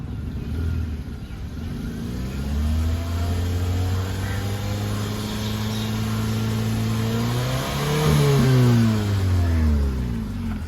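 Used petrol car engine with a suspected fault revving as the throttle is pressed, a steady idle drone rising in pitch and loudness toward a peak near the end before easing off, heard up close with no talk.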